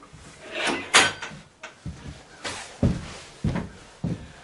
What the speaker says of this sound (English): we'll just go through this door to the back side of the barn.